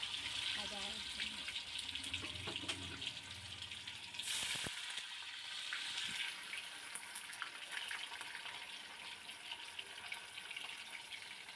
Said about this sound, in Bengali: আমি কীরকমভাবে মইঠাগুলোকে ভেজে নিচ্ছি